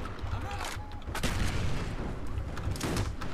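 Sniper and other gunfire in Black Ops echoes through a noisy firefight, with several sharp cracks and booming reports over constant background rumble.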